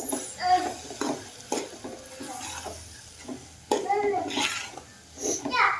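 Noodles being stirred with tomato sauce and ketchup in a pan, giving intermittent scraping and sizzling stirs under a voice and steady kitchen background.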